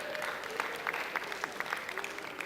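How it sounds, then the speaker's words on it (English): Light, fairly faint applause from a lecture audience, scattered individual claps sounding through a soft crowd bed for a couple of seconds. "Give her a big round of applause."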